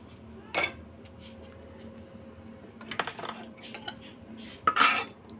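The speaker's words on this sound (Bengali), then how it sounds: "দেখো এটা কড়াইতে তেলটা আমি ছেঁকে নিচ্ছি" Metal ladle clinks and scrapes against a wok while fried boondi is strained from the oil, a few sharp clatters scattered through a quiet stretch, the loudest near the end.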